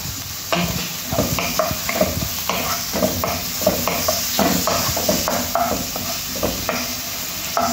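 Blended garlic and ginger sauté in a pan with a steady sizzle and repeated scraping, clattering stirs in an irregular rhythm, close by.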